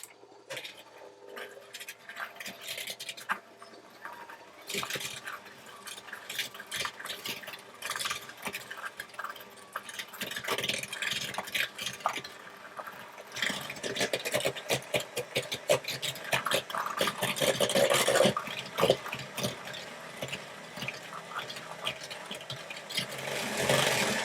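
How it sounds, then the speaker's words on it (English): Cake mixture whisked until pale and fluffy for a creamed coconut loaf cake, a long run of close, rapid rattling and scraping strokes that grows louder and busier partway through, with no talk. "I'm going to whisk those together until the mixture is pale and fluffy"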